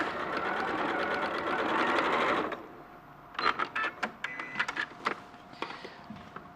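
A sewing machine fitted with a walking foot runs a straight stitch of ordinary length through several layers of fabric, a steady continuous whirr for about two and a half seconds, then a series of short bursts and clicks follow.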